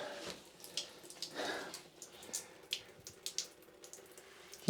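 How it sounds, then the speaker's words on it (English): Water drips and trickles from freshly watered houseplant pots indoors, a run of close, irregular splashes and patters of moderate loudness with no talking. "Sorry that you can hear the water dripping"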